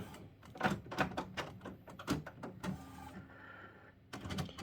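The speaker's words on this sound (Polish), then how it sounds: "Wyczyści głowicę sobie, po czym wydrukuje test głowicy." Mechanical whirring and clunking from an Epson WorkForce WF-7720 inkjet printer cleaning its print head, with repeated rhythmic carriage movements and motor pulses, close by with no talking.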